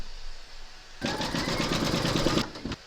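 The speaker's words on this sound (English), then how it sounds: "Load your thread colour for the quilting on the bottom fabric into your machine, and then stitch round number 9" A sewing machine stitches quilting through the bottom fabric layer of a crazy-patch notebook cover, a rapid even mechanical chatter lasting about a second and a half before stopping, close and clear.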